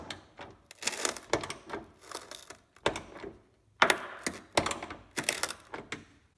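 A wrench works a rusty nut that keeps spinning with its bolt on the rear hatch trim panel of a 2007–2008 Honda Fit, making close, irregular bursts of metallic ratcheting and grinding clicks separated by short pauses.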